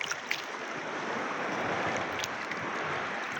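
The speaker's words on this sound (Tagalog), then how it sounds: "Grabing alon ay." Big sea waves roll in a broad, steady wash of surf that stays loud and continuous, with a few sharp splashes and no voices.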